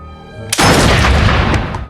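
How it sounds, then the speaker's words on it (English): A quiet tone is cut off by a loud burst of gunfire, a sustained booming blast with sharp cracks, fading toward the end. "Hearing the sound of gunfire"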